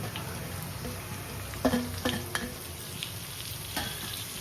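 Carrot and capsicum tossed into a hot frying pan for egg fried rice, steady sizzling with a few sharp clinks and stirring knocks near the middle, close and alone without talk.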